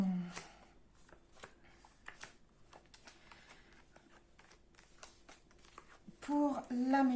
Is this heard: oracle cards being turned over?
yes